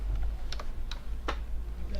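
Keys clacking on a computer keyboard during array coding, a few separate sharp taps spread across the moment over a steady low hum, close and moderately loud.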